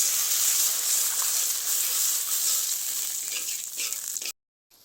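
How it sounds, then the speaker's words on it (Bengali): Capsicum sauce simmering in a pan after water is poured in, giving a steady broadband sizzle and hiss that fades slightly toward the end before cutting out abruptly. No voices. "এই ঝালের মধ্যে এবার জল দিয়ে ক্যাপসিকামের ঝালটি তৈরি করে নেব।"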